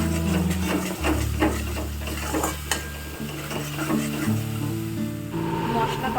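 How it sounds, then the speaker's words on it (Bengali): A spice paste with green, dried and Kashmiri chilies is stirred and fried in a pan in a home kitchen. A spatula rhythmically scrapes and knocks against the metal over a soft sizzle, with steady background music underneath. "সব কিছু দিয়ে মশলাটা ভালো করে কষাবো।"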